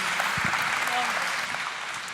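An audience at a startup contest final claps steadily in a dense, even burst, with faint voices underneath.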